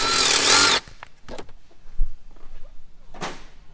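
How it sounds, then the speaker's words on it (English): A power drill bores holes for nutserts during a 12v touring vehicle wiring install, giving a loud, dense whirring burst for under a second before stopping, followed by quieter scattered knocks and handling clatter. "Okay, so we just finished drilling those holes"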